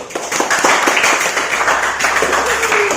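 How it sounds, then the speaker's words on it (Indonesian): Classroom applause for a student group after their presentation, a close burst of clapping hands with some distinct individual claps over a murmuring room. "Tepuk tangan untuk kelompok 1."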